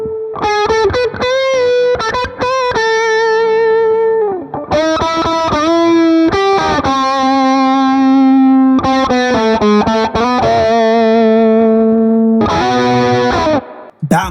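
Electric guitar with a singing tube-screamer overdrive tone from AmpliTube 5, playing loud sustained lead phrases with bends and held notes, and a short burst of faster notes near the end.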